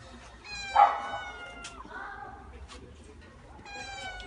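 A cat meows once, close and fairly loud, in a quiet indoor room with faint tonal sounds from a television or device in the background.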